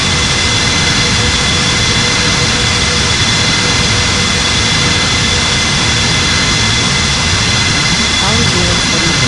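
Jet airliner at Bali airport, an Airbus A340-600 or Boeing 777-300ER, roaring at full takeoff thrust on runway 27, a loud, steady broadband rumble with whining engine tones throughout and faint radio chatter beneath.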